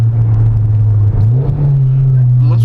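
2003 Mazdaspeed Protege engine running close by, a loud steady low drone that lifts slightly in pitch partway through, with a person speaking faintly over it.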